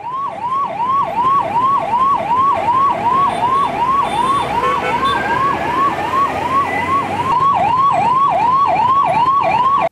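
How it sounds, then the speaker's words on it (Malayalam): A new ambulance siren sounds at a flag-off ceremony for an auto and taxi union's second ambulance in Manassery, Kerala, a loud, close, rapidly repeating wail that continues steadily throughout. "രണ്ടാമത്തെ ആംബുലൻസാണ് സർവീസ് ആരംഭിച്ചത്"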